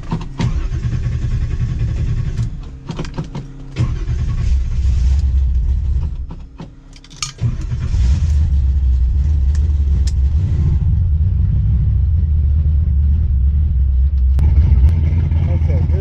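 A car engine in an empty shop cranks over and catches, then settles into a steady, loud, low rumble. Clattering and shop noise come before it starts.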